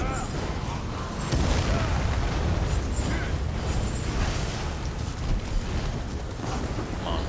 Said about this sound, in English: The explosion came really fast that time.